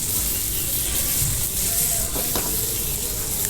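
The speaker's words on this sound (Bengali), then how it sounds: "আমরা এখন চিংড়ি মাছগুলো ভেজে নেব" Medium-sized shrimp, shells peeled from the body with tails left on, frying in a pan with a loud, steady sizzle and crackle throughout, close up and with no talking.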